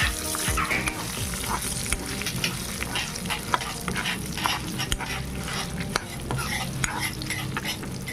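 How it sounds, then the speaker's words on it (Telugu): Dried red chillies frying in oil in a pan, a busy sizzle with repeated spatula stirring and scraping, a dog barking faintly in the background. "ఆ తర్వాత తీసుకున్న ఎండుమిరపకాయలు అందులో వేసుకోవాలి. ఇది కొంచెం మంచి స్మెల్ వచ్చేంత వరకు బాగా వేయించుకోవాలి."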